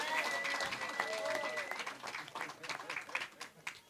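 Guests applaud at a live-streamed wedding. The clapping is scattered and moderate, with people talking over it, and it thins out and grows uneven toward the end.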